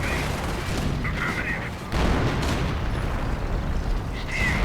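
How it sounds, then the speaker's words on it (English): Booming anti-tank gun and artillery fire in a World War II strategy game, with heavy thuds and rumbling blasts layered over a dense battle din, and a voice talking throughout. "Anti-tank gun gets off a few hits on the Ostwind"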